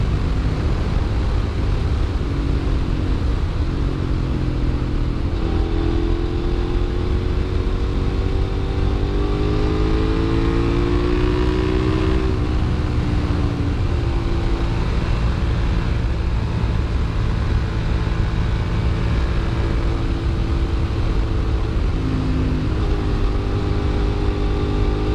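A 2006 Suzuki SV650S motorcycle cruises on a highway, its engine droning loud and steady with slow pitch rises and falls under constant rushing wind noise.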